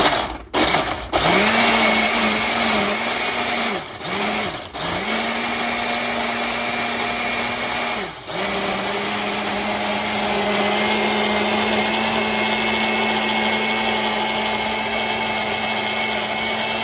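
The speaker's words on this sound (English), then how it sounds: "now we're just gonna go ahead and get this on the blender" A blender pulses jerk seasoning ingredients on a slow setting, the motor whirring in short bursts with brief stops before settling into one steady, loud blend.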